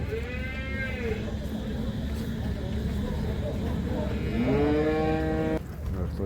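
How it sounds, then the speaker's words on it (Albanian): Dairy cows at a livestock market in Rogovë, Has, give two long, drawn-out moos, one early and one louder near the end, over a steady crowd murmur and nearby talk. "Edhe lopë qëmshtore."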